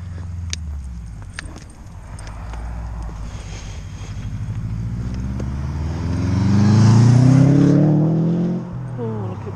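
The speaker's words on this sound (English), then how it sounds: "With my loud noise exhaust on my Subaru." A Subaru with a loud aftermarket exhaust rumbles past close by on a residential road, its low engine note swelling as it nears and then fading away.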